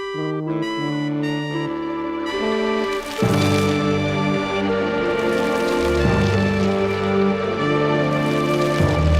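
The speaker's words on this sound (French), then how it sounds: "On dirait que la pluie grésille." A few plucked musical notes give way to a steady hiss of rain pouring down, with the tonal music still sounding beneath the downpour.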